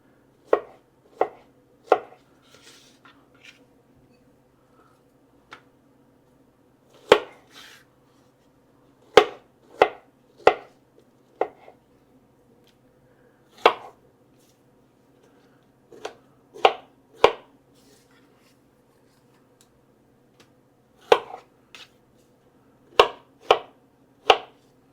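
A knife slices strawberries on a cutting board for a strawberry chiffon pie, giving a series of crisp, close cutting knocks in small clusters with short pauses between, and no talking.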